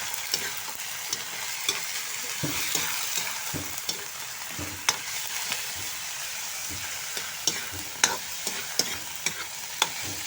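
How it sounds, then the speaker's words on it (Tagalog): Food sautés, sizzling and crackling steadily in a hot pan, with occasional sharp pops and scraping clinks from stirring, no talking. "Ganda ng tunog ng ginisay"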